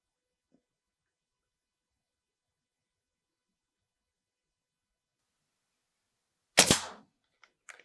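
A Brocock Pathfinder air rifle firing an Air Arms field pellet in 5.52 on a range, a single sharp crack after a long silence, followed by a couple of faint small clicks.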